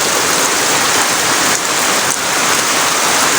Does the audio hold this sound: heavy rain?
yes